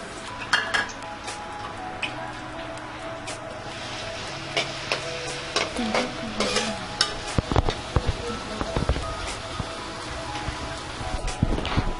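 Chopped onions frying in a pan for a fish bhuna, with scattered metal clinks and scraping of a spoon against the pan over a soft sizzle, growing busier toward the end.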